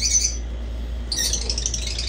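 Lovebirds in a breeding setup with a newly hatched chick give shrill, high squawks and chirps, near and fairly loud, in short bursts that grow busier in the second half.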